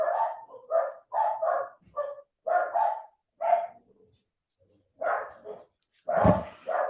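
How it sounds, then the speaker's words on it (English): Several dogs barking excitedly in short repeated bursts of yips and barks, close and loud, with brief pauses between volleys and no talk over them. "See the dogs going nuts."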